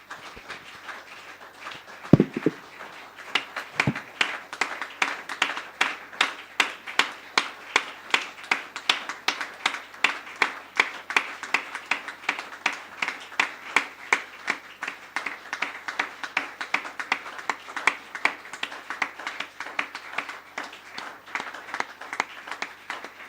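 A church congregation claps in steady rhythm during a French-language worship service, a long run of even, fast handclaps that fill the room with no talk, opening with a couple of louder thumps.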